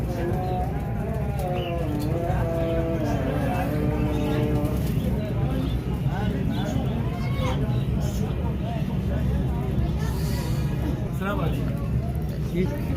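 Pigeons coo steadily at a crowded pigeon market at Data Darbar in Lahore, under continuous busy crowd chatter and speech from nearby people.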